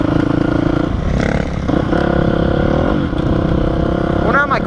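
A Honda CRF450R dirt bike rides trails, its engine revving and shifting up and down close by with clattering from the ride, and a rider talks over it.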